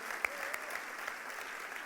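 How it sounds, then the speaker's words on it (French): A short burst of scattered, fairly quiet applause from an audience, with a few sharper individual claps. "On peut l'applaudir plus fort que ça, s'il vous plaît."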